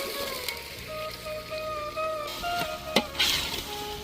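Green vegetables sizzle steadily in a hot pan while being stirred for Kathiyawadi khichdi, with soft scraping strokes and a few louder clinks of the spoon against the pan.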